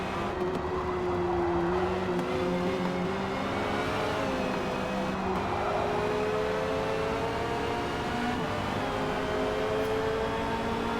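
Race car engines in Forza Motorsport at Grand Oak Raceway, a Porsche and a C7 Corvette among them, drone steadily and loud throughout, with pitch sweeping up and down through gear changes and no talk.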